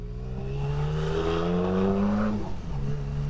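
A BMW K75 cafe racer motorcycle pulls away in first gear, its engine note rising steadily toward about 3,000 rpm, loud and close, then easing off as the revs drop.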